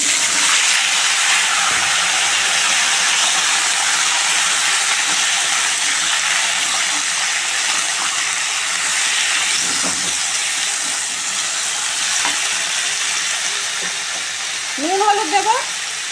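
Chopped vegetables sizzle steadily in hot oil seasoned with dried red chillies, bay leaf and five-spice, a broad continuous hiss that holds for the whole stretch, with a brief voice at the very end.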